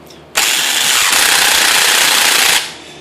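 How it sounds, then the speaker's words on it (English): A DeWalt cordless impact gun ratchets hard in one steady, loud burst of rapid hammering lasting about two seconds before winding down. "So I can't stop this thing with my hand. It keeps ratcheting."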